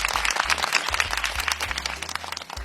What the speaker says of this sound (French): On applaudit pour ça.